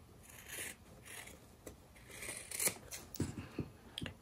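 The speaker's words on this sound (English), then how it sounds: "now we're gonna take our scissors and cut those out" Sharp fabric scissors snip and rasp through fabric in a series of short cuts, close and fairly quiet, with rustling handling sounds between them.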